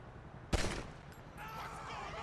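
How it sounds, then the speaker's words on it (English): A single sharp gunshot fired at a lock in GTA V, followed by a brief ringing tone and a lingering softer echo, loud and close. "it doesn't look like we're able to open it by shooting at the lock"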